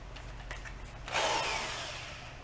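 A power drill whirs up briefly in a workshop during work on an antique marine engine that sat for 35 years, a short loud burst after faint clicks and handling noise.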